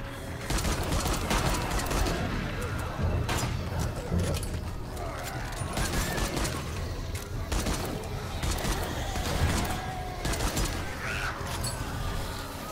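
Rapid gunfire from the video game 7 Days to Die, during a first horde night, crackles almost continuously in dense bursts over a busy, loud game soundscape.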